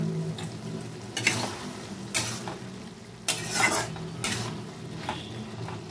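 Spoon scrapes and clatters against a metal pot while mixing cooked food for a quick iftar snack, several separate stirring strokes close by over a faint background hum, with no talk.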